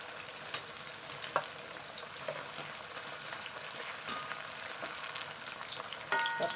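Thin mango slices fry in hot oil for a Kerala-style mango pickle, making a steady, close sizzle with occasional stirring knocks and no talking.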